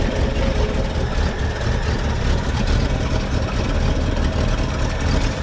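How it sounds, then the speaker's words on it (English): A 1966 Ford Mustang engine idles a little low, a steady, dense low rumble with a continuous broadband roar and no breaks, close and loud throughout. "It's idling a little low."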